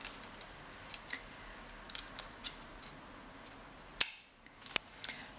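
Small scissors snip through beading thread during brick-stitch beadwork, giving a couple of sharp, crisp clicks over a quiet room with faint handling noises between.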